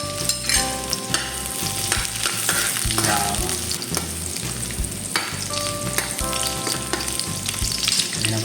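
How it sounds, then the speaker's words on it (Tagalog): Oil sizzles and crackles steadily in a hot frying pan on the stove, a loud continuous frying hiss with occasional stirring clinks throughout, no talk. "Kainita tayo ng mantika mga ka-viewers."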